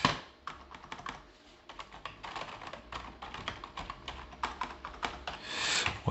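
Typing on a Logitech K545 wireless keyboard, a steady run of close, crisp key clicks with uneven rhythm and brief pauses, growing slightly louder toward the end, with no talking.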